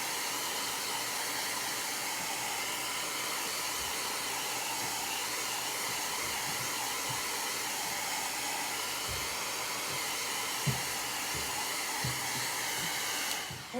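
A heat dryer blows over freshly applied chalk paste with a steady, close whooshing roar, unbroken throughout, with a few faint handling knocks before it shuts off at the end.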